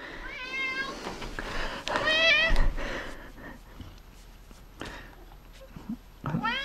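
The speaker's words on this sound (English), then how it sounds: "Meow. He is loud." A cat meows loudly several times in close succession, then a few more calls after a quieter pause.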